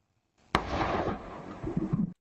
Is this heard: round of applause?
no